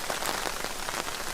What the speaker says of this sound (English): We got some hail. I don't know if it's hail or if it's snow